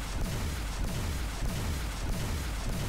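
Plasma cannon fire in the space game X Rebirth: a steady run of deep, booming shots repeating about every half second, each with a falling low rumble, layered over a constant loud hum with no voices.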